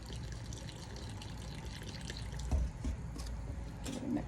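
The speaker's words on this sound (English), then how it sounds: "I'm just going to start pouring some water in here" Water pours into a bowl for making homemade underglaze with Mason stains, giving a steady soft splashing and trickling with a few louder drips, fairly quiet and continuous.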